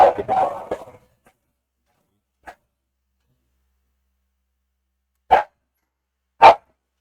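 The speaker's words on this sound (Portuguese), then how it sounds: "o cachorro latindo aqui" Speech at the start, then a few sharp, separate barks spaced widely apart in otherwise near silence.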